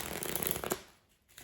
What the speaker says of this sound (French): Une fois qu'on est là, on peut faire des mélanges à l'américaine.